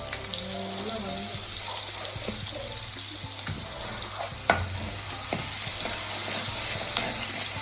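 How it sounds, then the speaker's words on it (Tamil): Onions with a little salt sautéing in a pan, a steady close sizzle with spoon stirring and scraping, one sharp clink midway, and faint background hum, no talk. "வெங்காயம் கொஞ்சம் உப்பு போட்டுக்கணும். நல்லா வதங்க."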